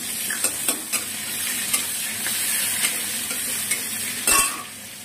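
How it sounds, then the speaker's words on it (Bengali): Chopped onion fries in hot mustard oil with nigella seeds and slit green chillies in a kadai, a steady close sizzle broken by sharp clinks and scrapes of a stirring spoon. "এবার আমি কড়াইতে দেবো কিছুটা সরষের তেল দিয়ে দিয়েছি, কালো জিরে ফোড়ন দিয়েছি, আর দিয়েছি কয়েকটা কাঁচা লঙ্কা চেরা।"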